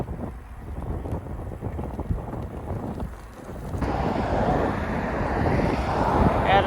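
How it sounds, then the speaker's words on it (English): Wind roars into the microphone while two people ride Aventon Level 2 e-bikes outdoors, a constant loud buffeting that grows stronger and harsher partway through, with no clear talk. "we cannot escape the wind"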